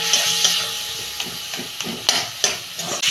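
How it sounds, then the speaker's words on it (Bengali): Ground turmeric and cumin are stir-fried in a pan for a home-style Bengali dish, with a steady sizzle and hiss under repeated sharp scrapes and taps of a spatula against the pan. "এবার আমি ভালো করে কষাবো।"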